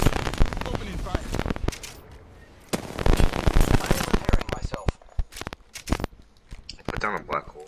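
Video game gunfire: rapid bursts of sharp, close shots in clusters, pausing briefly then resuming with scattered single shots and rattling volleys, with a voice talking through part of it.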